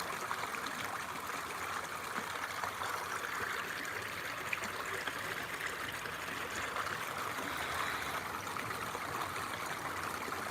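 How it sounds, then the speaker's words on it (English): River water flows and trickles around rocks in midstream, a soft, constant babbling wash heard close by. "Not often you have a seat right in the middle of a river"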